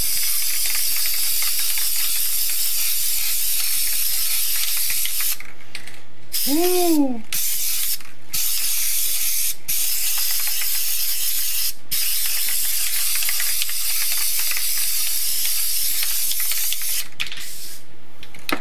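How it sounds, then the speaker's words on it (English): A spray paint can hisses onto an acrylic painting in a long, continuous spray that runs almost without pause, broken by a few short stops and one brief whooping voice. "Take some salt, spray paint."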